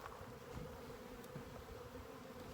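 Honeybee foragers buzzing around a hive, a steady dense hum of many wings with occasional closer passes, moderately faint and continuous with no talking.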